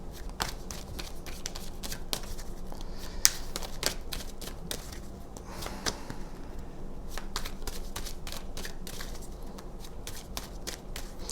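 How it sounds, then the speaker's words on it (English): Tarot cards are shuffled repeatedly in a quick, continuous riffling patter, close and fairly quiet, with sharp flicks scattered throughout. "I shuffle these cards"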